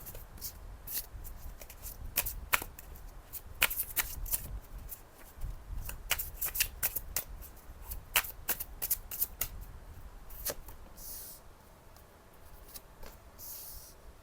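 Tarot cards being shuffled by hand, a steady run of crisp riffling and flicking bursts, close and fairly quiet, with no voices over it.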